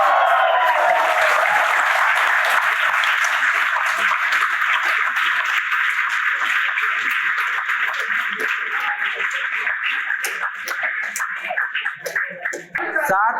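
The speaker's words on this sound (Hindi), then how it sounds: "इन दोनों के लिए एक बार जोरदार तालियों से अभिनंदन करिए" Sustained applause from an audience at the final of an inter-college Hindi parliamentary debate competition, greeting the winners: dense, continuous clapping with no pauses, loud and steady, thinning slightly toward the end.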